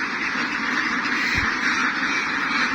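RTL Itik ducks kept for egg laying give a brief quack against steady loud background noise, a single short call in the middle of the clip.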